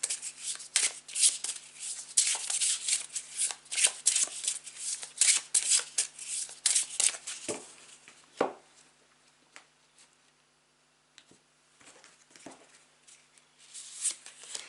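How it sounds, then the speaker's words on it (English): Tarot cards being shuffled by hand: close, crisp riffling and slapping in quick bursts, a brief lull near the middle, then softer shuffling resumes. "going to start shuffling the cards"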